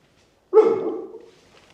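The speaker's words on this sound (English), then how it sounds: "he was just twitching and barking in his dreams" A single muffled, low bark from a dog barking in its sleep while dreaming, close by, fading into a brief soft whine; quiet before and after.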